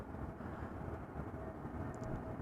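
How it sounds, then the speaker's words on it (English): An Airbus A320neo airliner lands in a strong post-storm crosswind at Amsterdam Schiphol, heard as a steady, distant low roar with a broad rumbling wash and no clear peaks. "A320neo arriving from London Stansted, followed by an A319, followed by a Dreamliner arriving from Las Vegas"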